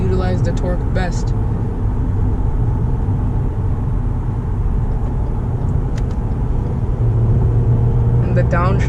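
Turbocharged Lexus GS 200T accelerates hard with quick downshifts, its loud engine note filling the cabin steadily, with a few brief transient clicks and someone talking over it.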